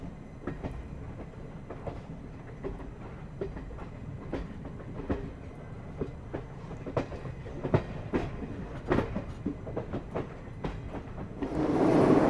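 Onboard the Jhelum Express just out of Jammu station, a continuous rumble with rhythmic clickety-clack of wheels over rail joints, ending in a louder rushing surge, no talking.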